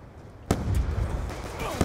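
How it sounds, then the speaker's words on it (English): A frag grenade detonates in Black Ops 2 as a broad, booming burst that rumbles on under game noise and shouting, followed by a second sharp thump near the end. "Frag out!"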